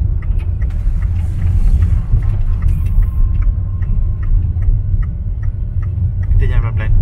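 A car passes along the old Karak road in Malaysia with a continuous low engine and tyre rumble. Faint ticking and muffled talk can be heard nearby throughout.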